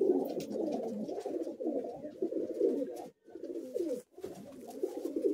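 Several Madrasi high flying pigeons in a Kolkata loft keep up a thick, unbroken cooing chorus, dropping out briefly twice before resuming at the same close, steady level.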